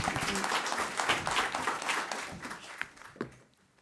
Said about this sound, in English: I would say a little applause for our panel